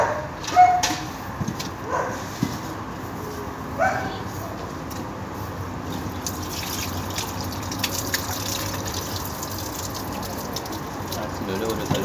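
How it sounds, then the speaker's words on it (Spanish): Water gushing from an open tap and flooding the ground during household sewer connection work, a steady, moderately loud rush with a few sharp knocks and splashes, a dog barking once early on. "voy a cerrar la canilla pues está inundando"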